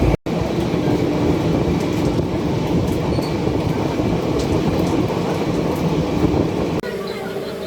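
The 03113 Kolkata–Lalgola Special train runs on the tracks with a loud, continuous rumble and rattle of wagons, heard from on board with faint squeals and clatter.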